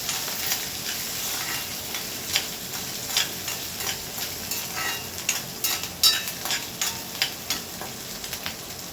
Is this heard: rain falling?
no